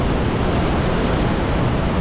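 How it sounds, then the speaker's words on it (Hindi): The Pushpavati river, also called Lakshman Ganga, rushes in a mountain valley. It makes a loud, constant broadband roar of water close by, with no break and no voices. "ये है पुष्पावती नदी या लक्ष्मण गंगा आप कहिए"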